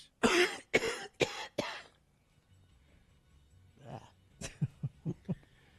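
Four harsh, loud coughs come in quick succession. After a pause, a softer run of short coughs or throat sounds follows.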